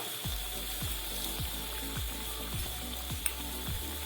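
Kohlrabi with chopped tomatoes and green chillies sizzles steadily in a pan, a constant fizzing with a faint repeating mechanical tick underneath.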